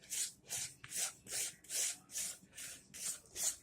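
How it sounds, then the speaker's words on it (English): A small spatula scrapes down a bowl of lavender truffle mixture in eight rhythmic, even strokes, close and fairly soft, with no voices. "I'm going to need my baby spatula again so I can scrape all of this down"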